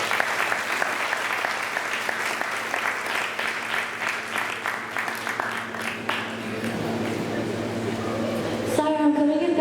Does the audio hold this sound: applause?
yes